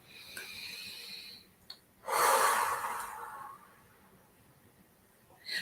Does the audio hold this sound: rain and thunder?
no